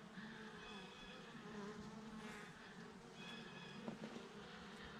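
Honeybees buzz steadily inside a newly started hive, a dense, continuous drone close by with no voices over it.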